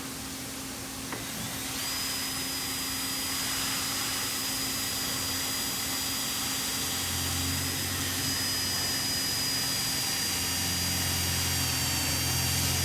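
A drill bores a hole for a nutsert in a Jeep Gladiator's body: a loud, continuous whining drone close to the microphone with a steady high tone, and a rougher low rumble joining later, without speech.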